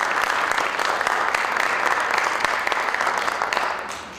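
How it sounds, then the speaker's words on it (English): A full room applauding at a high school National Honor Society induction ceremony, steady dense clapping throughout that eases slightly near the end. "a round of applause as well."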